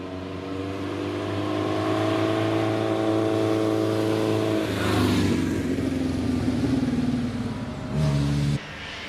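MGA sports car racing up the Prescott club hill climb, its engine holding a steady revving drone before changing gear and rising again, fairly close and loud with no talk.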